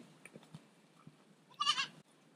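Goats being used to clear land around an orchard let out a loud, wavering bleat near the close, preceded by softer scattered calls and rustling.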